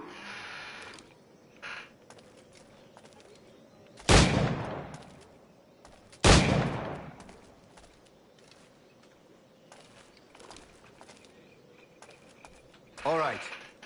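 Two sharp pistol shots crack out a couple of seconds apart at targets in Assassin's Creed IV video game, loud and close over quiet ambient background, followed by a softer whooshing game effect near the end.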